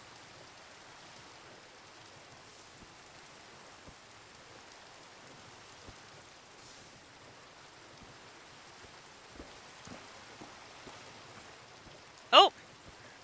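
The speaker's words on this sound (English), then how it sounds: "The netherite spacesuit does not protect against the acid rain." Acid rain falling in Minecraft, modded with Ragnamod, a faint steady hiss of rainfall that continues throughout, with a brief louder burst near the end.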